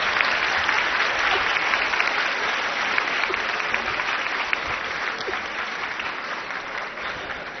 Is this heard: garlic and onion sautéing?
no